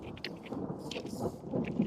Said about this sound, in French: Dans l'orage qui tape